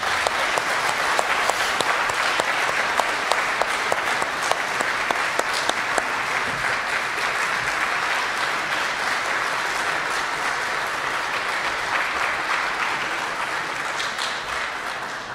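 Sustained applause from a concert audience at a music festival's closing concert, dense clapping continuing steadily throughout at full strength, tapering only slightly at the very end.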